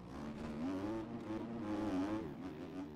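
Motocross bike engine in the MX Bikes racing game, a steady buzzing drone whose pitch wavers up and down as the throttle is eased and the engine brakes, loud and continuous with no talk.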